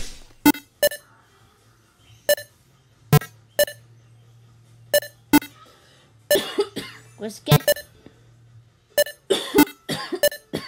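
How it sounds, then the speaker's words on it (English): A woman coughs in short, sharp bursts spread unevenly through the scene, some single and some in quick clusters, near and fairly loud, while people talk briefly in between over a faint steady background hum. "Mom was coughing right now, everybody"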